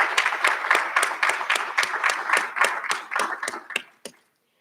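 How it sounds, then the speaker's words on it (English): A small group of graduates claps at a recognition ceremony, producing a sparse, even run of distinct handclaps that thins out and ends with a last few single claps before silence. "Let's give yourselves a big round of applause."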